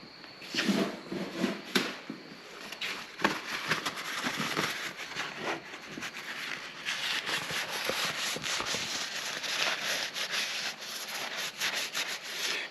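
Repeated rubbing and scraping as surfaces of HEMI engine parts are cleaned up by hand in a shop, a close, steady abrasive hiss with rhythmic strokes running throughout.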